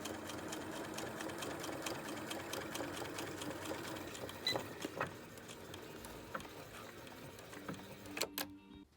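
Sewing machine stitching boning into a bustier, a close, steady mechanical whir with rapid needle ticking that runs continuously, then slows into a few separate clunks near the end, no talking.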